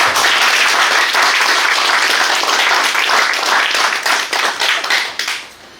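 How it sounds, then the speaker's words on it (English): An audience at a presentation event bursts into loud, sustained applause, dense clapping throughout that thins into scattered claps and fades near the end. "Let's give a round of applause."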